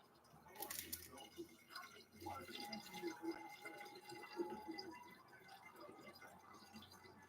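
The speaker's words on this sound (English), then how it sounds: "So I'm draining the water." Water is poured off a half-thawed raw chicken in a kitchen: soft, faint trickling and dripping with a few wet squishes, close by and quiet.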